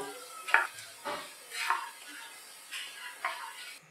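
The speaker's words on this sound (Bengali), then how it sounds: "এই জিরে আর থেঁতো করা গরম মশলাটা আমি ফোড়ন দিয়ে দিচ্ছি" Cumin and crushed whole garam masala crackle and sizzle in hot oil, with several sharp spitting bursts and stirring scrapes at close range.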